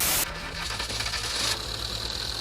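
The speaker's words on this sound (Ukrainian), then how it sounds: "Двигун працює." A ZAZ Tavria car engine runs at idle with a steady low rhythmic chug and some metallic rattle, close by, no talking.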